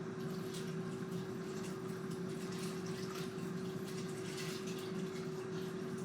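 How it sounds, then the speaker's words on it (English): Water is poured into the bottom of a multi-purpose steamer over macaroni, a steady running, filling rush with a constant hum underneath, continuous and fairly faint, with no talking. "pour it over top of your macaroni until it is covered."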